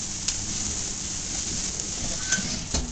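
Steady rain falls outside during a winter barbecue, a dense, even hiss with occasional louder drips and taps, close and continuous with no talking.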